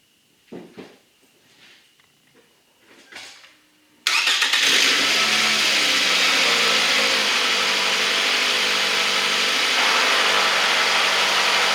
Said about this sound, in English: Now we fire her up, make sure she runs all right